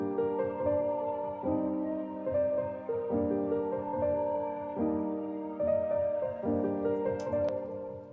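Sustained chords with soft piano attacks layered over a smooth Omnisphere synth pad, changing every second or so in a steady, continuous progression.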